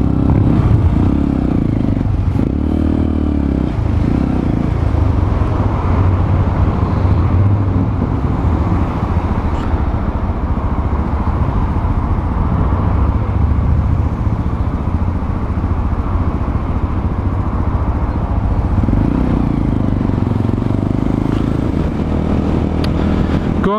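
A Honda Grom motorcycle rides through congested city traffic at night, its small engine droning steadily and loudly up close throughout, with surrounding traffic rumble and clatter mixed in.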